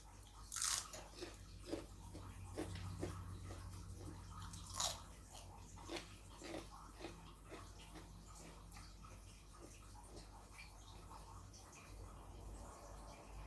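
Someone eats Thai papaya salad (som tam) close up, with irregular wet chewing, biting and crunching sounds and a few sharper crunches, quiet and steady over a faint background.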